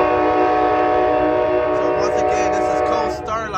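An Amtrak Coast Starlight passenger train, number 14 with a heritage unit, sounds a loud, sustained chord horn at a station in the middle of a street, the blast holding steady and then trailing off as a voice speaks over it.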